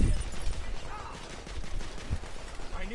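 Video game gunfire from The Order, a muffled burst of rapid shots with low booming thuds mixed into game noise and voices.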